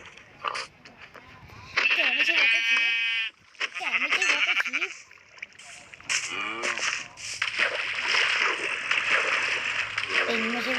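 Video game sheep bleat repeatedly in short wavering cries, several animals overlapping loudly, mixed with splashing water sounds and a person speaking between calls.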